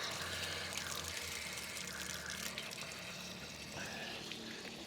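Water and pressure hissing and gushing out of an RV water heater with the supply shut off, a steady broadband rush of spraying liquid throughout.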